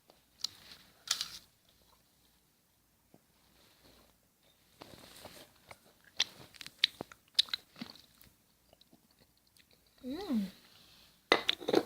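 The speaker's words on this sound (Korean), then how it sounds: "입안에 다 붙은 머랭 쿠키." Someone bites and chews a sticky meringue cookie dipped in a coating, with crisp crunchy bites and close mouth sounds in separate bursts between quiet gaps, no talking.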